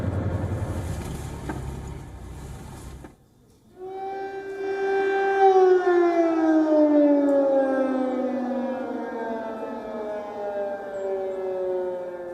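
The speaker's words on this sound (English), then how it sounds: "Sirens in Kyiv continue to ring through the night." A wailing air raid siren sounds across Kyiv, rising and then slowly falling in pitch, steady and far-reaching with no voices.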